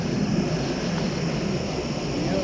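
A low, steady engine drone from an aircraft passing close overhead holds throughout as a continuous rumble with a pulsing high whine above it.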